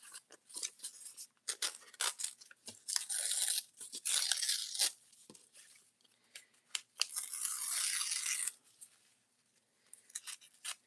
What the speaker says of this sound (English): that's why I'm just ripping bits and pieces off